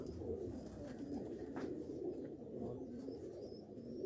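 Sialkoti pigeons coo softly and steadily close by, their low throaty calls repeating without a break, with faint background noise.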